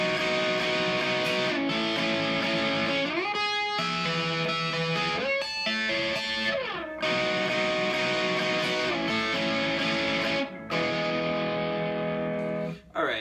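Distorted electric guitar with effects plays the next part, 3-string triad chords arpeggiated and strummed at tempo, steady and loud throughout with brief gaps between phrases.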